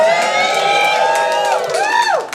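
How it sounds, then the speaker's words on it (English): A comedy club crowd at a live stand-up show cheers and whoops loudly, sustained high-pitched yells over a wash of applause. "Way too big of an applause."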